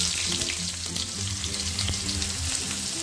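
Diced onion fries in hot oil in a wok, giving a steady close sizzle with crackles and a few scraping stirs, with no one talking.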